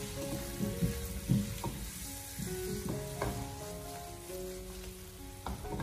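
Potato slices stir-fried in a wok with salt, chicken bouillon and soy sauce, a soft continuous sizzle with repeated scraping tosses of the spatula, fairly quiet and close, without any voice.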